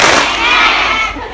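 A crowd at an Islamic religious gathering in Tsim Sha Tsui claps once in unison on cue, a loud broad burst that rings out and slowly fades into hall ambience.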